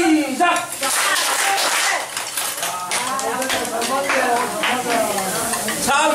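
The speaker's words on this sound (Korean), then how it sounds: "자, 박수는 지금부터 칩니다." Group clapping at a Korean alumni gathering, a dense, continuous patter of many hands filling the room alongside talk and crowd noise.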